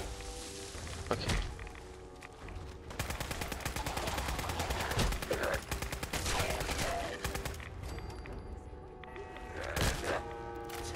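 Gunfire from the post-apocalyptic shooter game Fallout 4, rapid repeated shots in bursts with heavier thumps throughout, fairly loud and continuous over about eleven seconds amid game noise, with someone talking intermittently.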